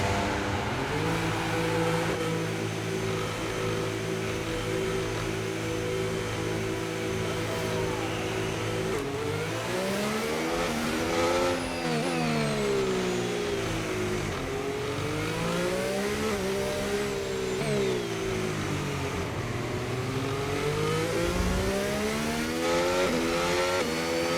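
A Williams Formula 1 car's engine revs and accelerates on hard tyres in the F1 25 racing game at Singapore, a loud, steady mechanical whine whose pitch climbs and drops repeatedly through gear changes, with no talk.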